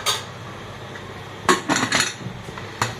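Metal cooker lid set down on a pot of vegetable paneer biryani: a sharp clank at the start, then a clattering cluster of metallic knocks and scrapes, and one more clink near the end, close and fairly loud.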